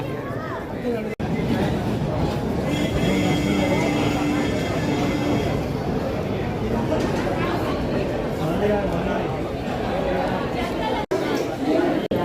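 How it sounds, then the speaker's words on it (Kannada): A train pulls into a busy station platform amid crowd chatter, a steady loud rumble with a sustained whine and brief squeal of wheels, people talking nearby throughout. "ಸೊ ಇವಾಗ ನಮ್ಮ ಟ್ರೈನ್ ಬಂದಿದೆ"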